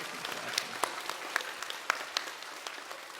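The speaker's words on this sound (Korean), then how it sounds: "큰 박수로 우리 환영해 주시기 바랍니다" An audience applauds a group of three guests at a gathering, steady mid-level clapping with scattered sharper claps standing out throughout.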